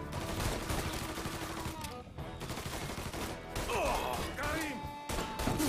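Bursts of gunfire in the video game Mafia III, with rapid repeated shots and crashing impacts loud through most of the stretch, while a voice talks over the action.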